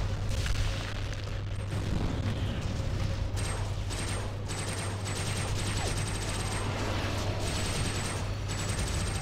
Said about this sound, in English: They've blown up the bridge again.